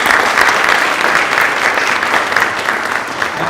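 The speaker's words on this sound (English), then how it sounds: "Give these guys a round of applause." Steady, dense applause from a large audience honoring the members of a housing-advocacy group's advisory board at a book tour event, loud and continuous throughout without a break.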